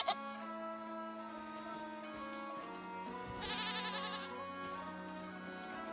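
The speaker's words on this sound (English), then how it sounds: "I hear goat." A goat bleating on a farm in autumn, drawn-out wavering calls repeating over steady background noise, fairly close and clear, with no talking.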